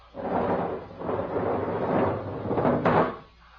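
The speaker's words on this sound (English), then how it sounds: "Open the car door." A car door is worked in a radio drama sound effect: a few muffled thumps and a rumbling creak over several seconds, with a sharper knock near the end, fairly loud and alone without talk.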